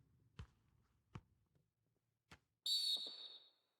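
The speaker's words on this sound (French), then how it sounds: "l'arbitre qui siffle une faute" A referee's whistle in a FIFA football video game, Southampton against Arsenal, shrills once loudly for a foul after a few soft thuds of play, sharp and clear against near silence.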